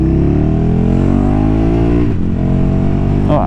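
A KTM 1290 Super Duke R motorcycle with a quickshifter and auto blipper revs hard and loud up close, its engine tone rising steadily before a sharp drop and a quick blipped shift near the end.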